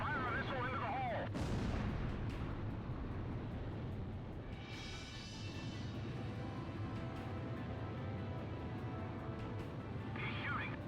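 Gunfire, artillery-style booms and missile launches from the Ace Combat Zero jet combat game, with dense continuous explosions and engine roar throughout, while radio voices speak over the action.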